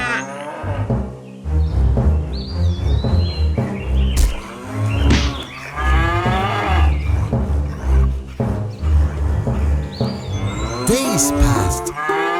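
Fat cows low repeatedly, loud, drawn-out moos with rising and falling pitch following one another in quick succession, with a few higher chirps and squeaks scattered among them.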